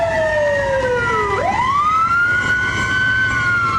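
A New Haven Fire Department engine's siren on the way to a building fire, loud and close. Its wailing tone glides down, snaps back up and then holds a rising, steady howl.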